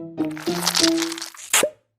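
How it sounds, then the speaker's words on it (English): An octopus climbing the glass of its aquarium tank gives a run of close, wet crunching and cracking suction sounds with squishy pops, followed by one louder smack and a short fade to silence. "That's the sound of Inky the octopus"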